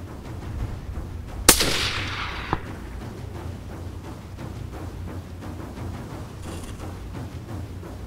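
A single sharp rifle shot cracks out at a golden wildebeest cow in open bush, loud and close, followed by a fainter second report a second later over steady outdoor background noise.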